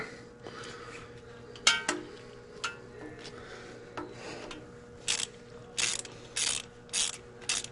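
A hand nut driver tightens clamp nuts on a turbo exhaust during a 12-valve ISL manifold install, giving short bursts of ratcheting clicks, sparse at first and then a rapid run of four or five quick turns, close by.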